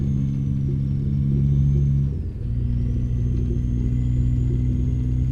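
A heavy truck engine in the American Truck Simulator video game drones steadily with a low, constant rumble. The note dips briefly about midway, as if easing off, then settles back into an even hum with no talking.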